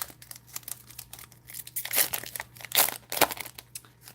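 Foil wrappers of Pokémon card booster packs crinkle and tear, with bursts of crisp rustling in uneven handfuls. They grow louder and sharper near the end, with no voice over them.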